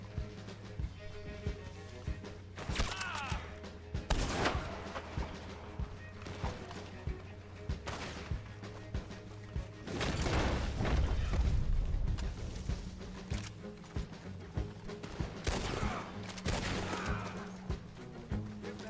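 Sniper rifle gunfire in the video game Red Dead Online, several sharp separate shots and booms spread over the span, set against game ambience and music with bursts of louder action.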